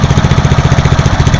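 A Westroad T1100 lawn tractor with a Briggs engine runs close by, giving a loud, steady, evenly pulsing idle with a smooth rhythmic chug.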